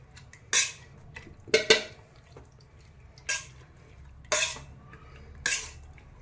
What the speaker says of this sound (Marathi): मॅशरने गाजर मॅश करून घेऊया।